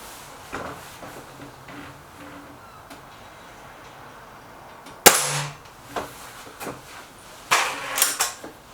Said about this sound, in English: you can hear quite a distinctive spring noise when you let a shot go